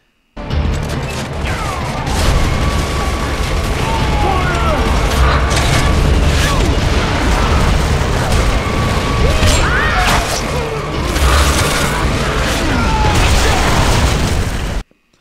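Mortar blasts land in a Gears of War: Judgment free-for-all match, booming repeatedly across a dense, continuous bed of loud game noise with mechanical clatter throughout.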